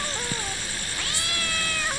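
A cat meows loudly and close by in a drawn-out, wavering cry with a rising second call, heard alone with no talk over it.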